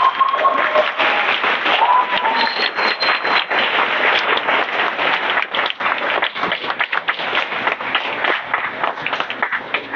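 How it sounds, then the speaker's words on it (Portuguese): A church audience at a youth music event in an Adventist church gives a round of applause, sustained clapping that stays loud and busy throughout, with a few whistles or shouts mixed in. "Vocês podem receber um salve de palmas também"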